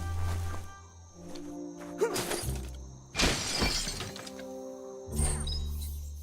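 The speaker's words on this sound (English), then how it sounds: "You shouldn't worry about smashing up the box." A wooden box being smashed in the video game Biomutant gives a few loud shattering crashes, one near the start and bigger bursts around the middle and near the end, over steady game music.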